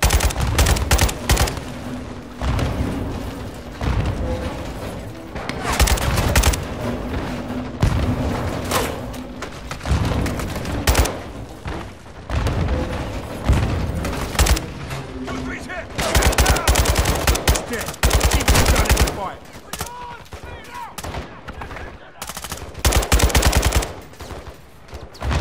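Relentless Call of Duty: Modern Warfare II combat, with grenade launches and heavy automatic gunfire: loud, dense bursts of rifle fire and booming blasts hammer on almost without pause, and shouted voices are buried under the barrage.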